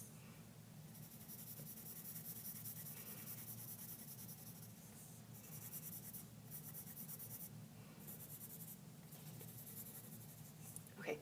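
Pencil shading on paper, alternating with an eraser rubbing to smooth out the pencil lines: soft, continuous scratchy rubbing strokes, close up and fairly quiet, lasting throughout.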